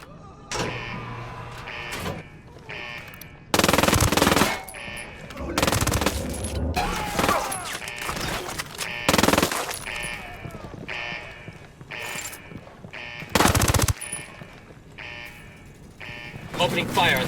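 Automatic gunfire in a video-game firefight crackles in several loud, dense bursts spread across the stretch, between quieter gaps with other game effects and voices.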